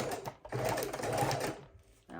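Sewing machine stitching through two stacked tea bag packet pockets for a junk journal, a steady whirring, close burst that stops partway through, then starts again briefly.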